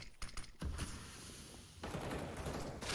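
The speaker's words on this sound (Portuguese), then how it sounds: "Aqui a troca de tiros rolando" Gunfire exchange in a professional Counter-Strike match on the Inferno map, a rapid burst of shots followed by steady crackling fire at a moderate distance.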